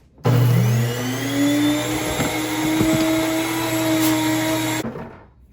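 An electric grain mill grinds flour with a steady loud motor whine that starts abruptly, holds for several seconds with a rising pitch as it settles, then cuts off.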